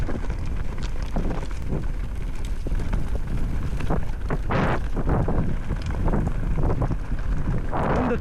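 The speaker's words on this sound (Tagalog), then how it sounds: "Piste hangin na." Loud, rumbling wind buffets the microphone in uneven gusts on a night ride in Cebu City, with rough low-frequency bursts swelling and fading throughout.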